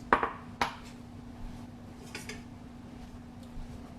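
A metal pressure cooker being handled in a kitchen before boiling chickpeas, a couple of sharp metallic clinks and taps followed by quieter rattles over a steady low hum.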